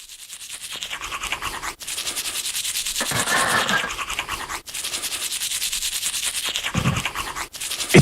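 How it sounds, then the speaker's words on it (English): A Glister toothbrush with toothpaste scrubs teeth in steady back-and-forth strokes, close and fairly quiet, with a few brief pauses and no talking. "he gets himself ready with his Glister toothbrush and toothpaste."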